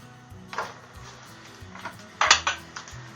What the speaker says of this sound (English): take your pot that you already have set aside and dump your hamburger and your onions right into it.